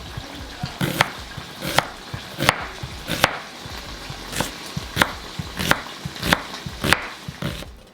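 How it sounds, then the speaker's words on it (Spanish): An onion being chopped with a knife on a board makes about a dozen sharp, close knocks at a brisk, slightly uneven rhythm, with no talking. "vamos a cortar la cebolla"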